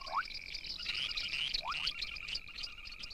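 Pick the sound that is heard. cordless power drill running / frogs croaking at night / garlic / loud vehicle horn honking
frogs croaking at night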